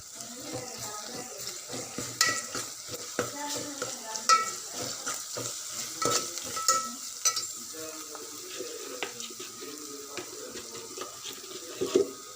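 Onions, green chillies, ginger and garlic fry in a pan for a ridge gourd and chana dal curry, giving a soft, close sizzle with irregular spoon scrapes and clinks throughout.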